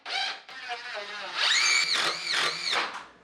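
A power drill bores through a wooden wall stud while a cabinet box is built, its whine rising and falling in several short, loud bursts over a few seconds.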